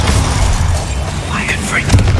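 Spell blasts in the video game Hogwarts Legacy, a dense run of booming, crackling bursts with a voice shouting over them throughout.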